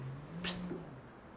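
A cat lets out a short, rising caterwauling yowl, close and fairly loud, followed by a brief lower growl-like note over a steady low hum in an indoor home setting.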